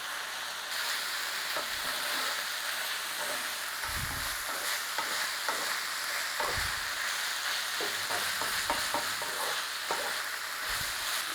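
Beef and onions sizzling in a pan as tomato puree is stirred in, a soft steady fry with repeated scraping thumps of the spoon every couple of seconds.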